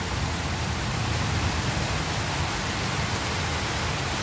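Heavy rain pouring during a thunderstorm after hail, a dense, even roar of falling water that stays steady throughout with no talking.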